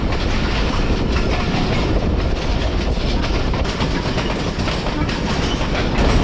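The Sialkot Express clatters steadily along the rails, a loud, dense rumble with rhythmic clickety-clack from the wheels heard from close by, continuing without pause throughout.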